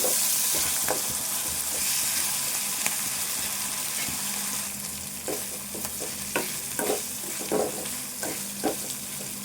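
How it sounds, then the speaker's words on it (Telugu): Ginger garlic paste fries in a pan for a chicken fry, a steady close sizzle broken by repeated sharp scrapes and clacks of stirring that grow more frequent toward the end. "అల్లము వెల్లుల్లి పేస్టు, ఇది కూడా వేయించుకోవాలి."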